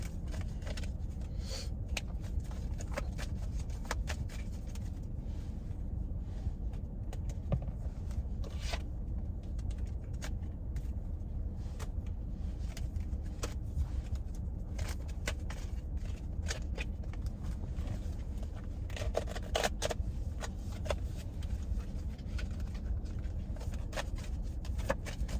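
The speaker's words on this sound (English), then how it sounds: "So let me shuffle these cards" Tarot cards shuffled continuously inside a car over a steady low rumble, with repeated crisp riffling and snapping bursts scattered throughout.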